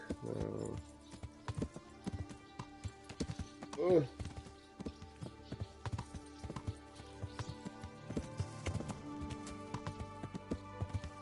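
Horse hooves clip-clop at a steady walking rhythm in the medieval video game Kingdom Come: Deliverance, alongside a brief whinny, with someone talking over parts of it.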